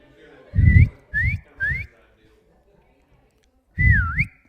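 Loud human whistling in four rising, sliding bursts: three quick ones close together, a pause, then a longer swooping whistle. No one speaks.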